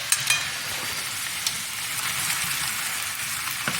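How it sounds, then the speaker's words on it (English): Fondant potatoes simmering and frying in a pan, giving a steady, close bubbling sizzle with faint crackles, alone without talk. "Let that simmer for a little bit."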